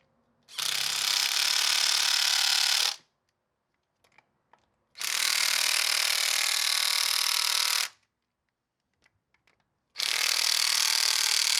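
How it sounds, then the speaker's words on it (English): A pneumatic impact gun tightens valve cover bolts on a Honda Accord in three loud, close bursts of a few seconds each, separated by quiet gaps with faint clicks. "Now we're just going to go ahead and zap those nice and tight with the gun."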